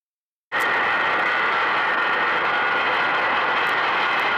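A private plane at an airfield, its engine a steady, loud broadband roar that cuts in abruptly and holds without pause, close and with no voices.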